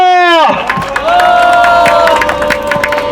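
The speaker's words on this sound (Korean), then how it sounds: "격려의 박수로 힘차게 박수를 쳐주시기 바랍니다" A street prayer-meeting audience breaks into encouraging applause and cheering after a voice trails off at the start, and the mixed clapping and crowd noise stays loud and sustained throughout.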